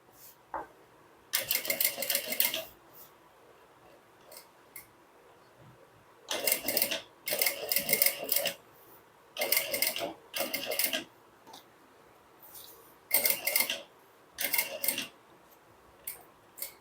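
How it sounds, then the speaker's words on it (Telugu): A sewing machine stitches cloth in loud, close bursts of rapid mechanical whirring, each lasting one to two seconds, with quiet pauses between them and no talking. "ఇట్లా కుట్టమంటే ఇట్లా కుడుతున్నాను మిషన్ కుట్టు"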